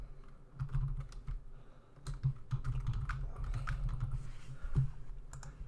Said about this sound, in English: I can basically just type whatever I want here